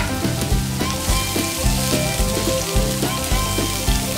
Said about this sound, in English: Put the onions in there to fry.